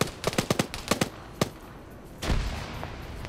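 Gunfire in a video game, a burst of several sharp shots early on, then a single shot, followed by a heavier rumbling blast; fairly near and loud, no talking.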